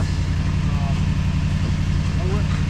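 A Toyota Sequoia engine idles cold at about 1,000 RPM after sitting, a steady close low rumble with an even rhythmic pulse, no breaks.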